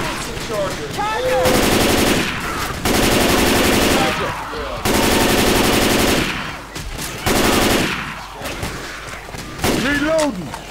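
Loud automatic machine gun fire in Left 4 Dead 2, coming in several long sustained bursts separated by short pauses, with brief voices and game noise in the gaps.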